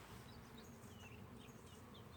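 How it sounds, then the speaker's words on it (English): Honey bees swarm around the front of a Flow Hive, making a continuous dense buzz. It is faint and fairly distant, and there is no talk. "And there's a lot of bees on the front."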